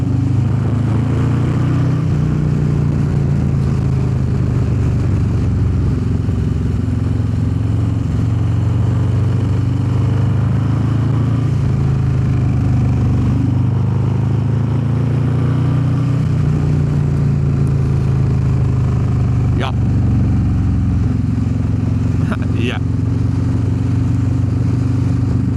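A Harley-Davidson Low Rider S with a 131 engine cruises on the road, its deep, loud V-twin rumble steady and close throughout, with pitch rising and falling as the rider rolls on and off the throttle.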